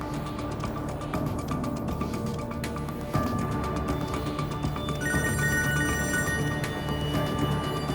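A telephone rings repeatedly over a dense, steady background of music-like tones, with a higher electronic ringtone joining partway through.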